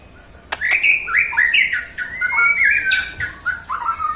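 A magpie robin in training sings close and loud, a continuous run of varied whistles, squawks and bright chirps.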